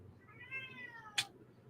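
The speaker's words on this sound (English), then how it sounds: "my stupid cat just won't shut up" A house cat gives a single drawn-out meow, fairly close and clear, ending with a brief sharp click or bump, against a quiet indoor background with no talking.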